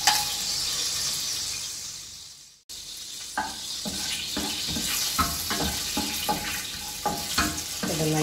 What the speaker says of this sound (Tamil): இது எல்லாத்தையும் போட்டு தாளிச்சிடலாம்